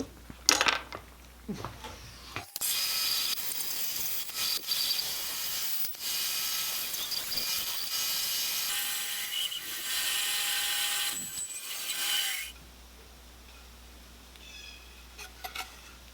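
Power saw cutting out a wooden cigar box guitar headstock, a loud steady whine running about ten seconds after brief handling clatter, then stopping to quieter bench noise.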